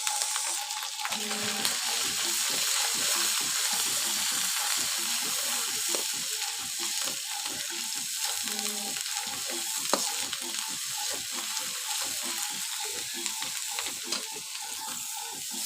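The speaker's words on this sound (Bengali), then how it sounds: "মশলাটা এখন ভালোভাবে কষে নিই" Ginger, coriander and cumin paste fries with tomato, turmeric and chili in a pan for a country shing fish and bottle gourd shoot curry, sizzling steadily throughout with repeated scraping stirs and no talking.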